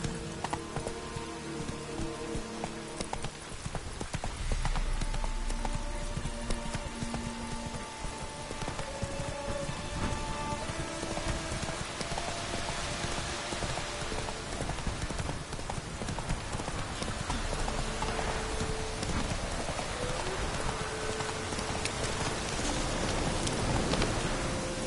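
Roach the horse gallops in The Witcher 3, steady hoofbeats drumming close under a wash of rain, with brief tonal game sounds drifting in and out.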